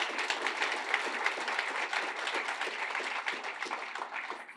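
Audience applause at a civic event about MacEwan University and downtown revitalization: steady, dense clapping from a crowd that holds fairly even for the whole stretch, with no voices over it.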